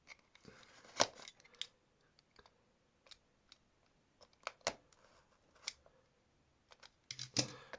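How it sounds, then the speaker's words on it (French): Unboxing a Hasbro Mirage Fafnir Beyblade Pro Series spinning top: sparse close plastic crinkles, clicks and tearing of packaging, with a louder rustling burst at the end in an otherwise quiet room. "c'est parti pour le déballage de la toupie"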